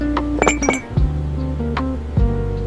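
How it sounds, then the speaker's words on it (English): Amber glass candle jars clinking against each other as they are unboxed, several sharp bright chinks and knocks in quick irregular succession, close and clear with no talking. "Our signature amber glass jars are carefully unboxed and prepared."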